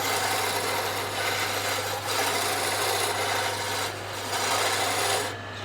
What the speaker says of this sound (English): I could use a gouge to remove some of this material.